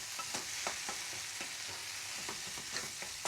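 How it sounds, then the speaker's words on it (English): Curry sloppy joe mixture stirred in a pan, with a soft, continuous sizzle under quick, rhythmic spoon scrapes and small clicks close by. "Give that a little stir around."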